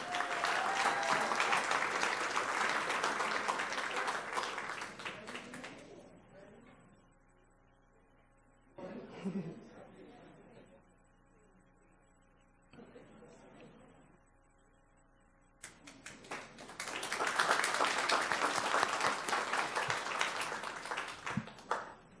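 An audience at a school board meeting applauds a school psychologist receiving an early career award; two bursts of crowd clapping bracket a quieter middle stretch with faint background voices and shuffling, the final burst strong and sustained.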